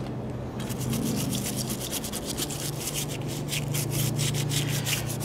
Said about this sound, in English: once you get this scraped, you probably want to go ahead and start wiping it off